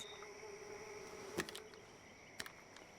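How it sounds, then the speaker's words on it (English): Bees buzz in the video game Twin Mirror: a faint, steady insect drone with a couple of brief sharp clicks over quiet background ambience. "I hear bees."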